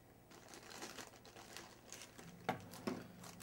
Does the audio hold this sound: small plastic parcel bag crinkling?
yes